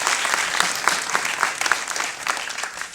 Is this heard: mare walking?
no